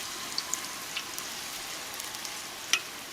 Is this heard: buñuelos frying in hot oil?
yes